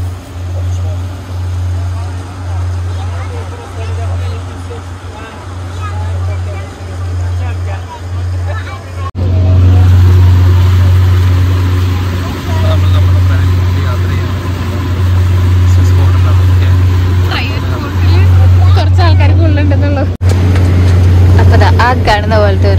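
Engine of a tour boat near the Rhine Falls waterfall drones loud and steady with a low hum, continuing under a voice talking throughout, with water rush and wind around it.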